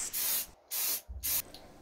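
Aerosol spray paint hisses from a can in a workshop, three close, steady bursts of about a third of a second each, separated by brief silences, with no talking.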